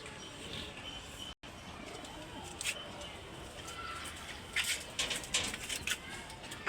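Domestic pigeons coo faintly on a rooftop loft beneath a steady airy background, with a voice talking and a few sharp rustles and taps toward the end.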